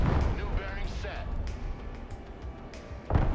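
Air strike explosions in a video game hit with a heavy low rumble, a sustained blast through the opening second and a fresh booming impact near the end, with a voice talking over the battle.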